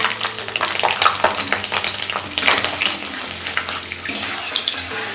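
Four or five whole garlic cloves fry in hot oil with melted sugar for chicken kala bhuna, a loud continuous close sizzle with occasional stirring scrapes and no talking.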